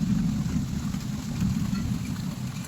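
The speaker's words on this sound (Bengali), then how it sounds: "আশা করি তোমরা শুনতে পাইতেছো বৃষ্টির শব্দ।" Heavy rain falling outside a window during a stormy day, a steady, dense roar with a deep rumbling low end, continuous and fairly loud, with no voices.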